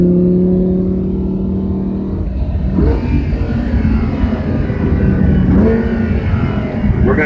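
A race car driving the Monticello circuit, its engine droning steadily at first, then rising and falling through two clear revving surges as it works through corners, loud and close throughout with no talk.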